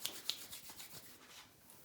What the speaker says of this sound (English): We'll rub our hands together.